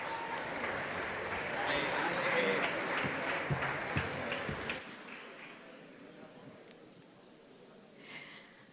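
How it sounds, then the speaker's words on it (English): Conference audience at a summit stage applauding to welcome a speaker, loud dense clapping that swells and then drops away abruptly, leaving quieter room sound and a few scattered claps. "please give a very, very big applause to Karina Birrueta"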